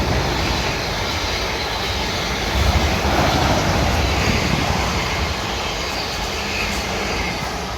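A Class 444 train on a Waterloo to Weymouth and Poole service passing through Raynes Park, a broad, steady rumble and rush that swells slightly midway and stays close and loud.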